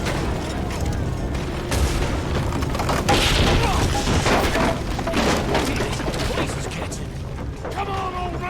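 Booming gunshots ring out repeatedly in Red Dead Redemption 2, dense and loud amid a constant wash of game noise, with speech mixed in.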